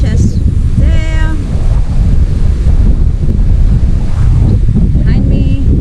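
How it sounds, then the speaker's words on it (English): Strong wind batters the microphone at Etty Bay beach on the Cassowary Coast in Queensland, a loud continuous roar with surf underneath, while a person talks briefly over it. "it's very windy today"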